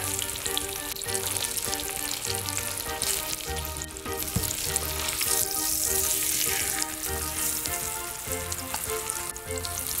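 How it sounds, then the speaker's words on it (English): Brisket searing with dried spices in a hot pot: a loud, continuous close sizzle with spoon scrapes and light clatter, steady over a low droning background hum. "You'll notice when you are searing dried spices, they can blacken"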